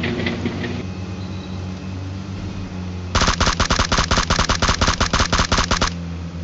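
Rapid automatic gunfire rings out in a shooting video game, a loud burst of evenly spaced shots lasting about three seconds after a stretch of quieter background game noise.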